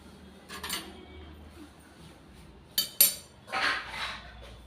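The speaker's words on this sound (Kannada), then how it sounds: "ಚಾಲಿ ಸೌಟ್ ತೊಗೊತೀನಿ ರೀ." A slotted ladle clinks against a frying pan of hot oil while Godhi hittin Gargi (wheat flour fritters) are deep-fried, giving a few quiet metallic taps followed by two sharper clinks and a brief rattle near the end.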